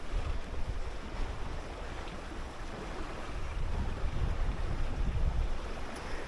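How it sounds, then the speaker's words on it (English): Strong wind at sea aboard a junk-rigged sailboat in about 25-knot winds, a dense continuous roar with wind buffeting on the microphone and washing water, loud and unbroken throughout. "The wind is building all the time."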